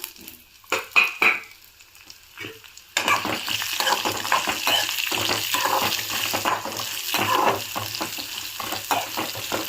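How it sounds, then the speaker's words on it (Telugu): Raw mango pieces drop into a hot pan and fry, starting with a few clattering stirs and bumps, then jumping into a continuous loud sizzle with scraping stirs running under it. "ఇప్పుడు ఇందులోకి పచ్చి మామిడికాయ ముక్కలు వేసుకుందాం"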